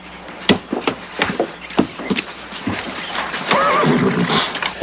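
Horses neighing and whinnying nearby, with scattered hoof clops and thuds before a long, loud whinny near the end.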